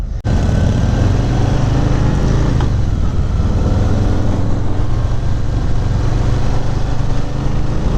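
A 2018 Harley-Davidson Softail Slim cruising on the road, its steady, loud engine drone and wind rush running continuously and close with no break or change in pace.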